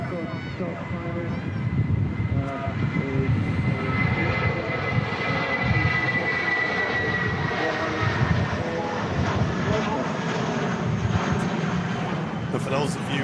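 Airbus A320 jet, 19 years old, on short final approach at Manchester Airport in windy weather, a rising then sustained engine roar with someone talking over it.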